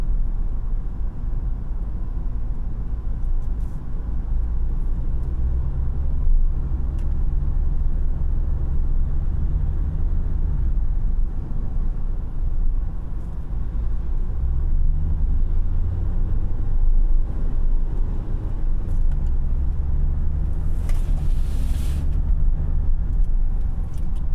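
2018 Honda Fit EX-L hatchback driving through corners, a steady low engine and road drone with wind noise, rising and falling gently as it accelerates between bends.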